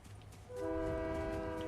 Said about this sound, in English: Here it comes. Here comes the train.